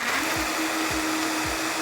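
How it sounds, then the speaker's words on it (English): A blender whirring as it mixes vegan protein powder with oat milk, a steady close motor drone with a few rhythmic low thumps from the contents churning, no talking. "So now I'm just gonna put it in the blender."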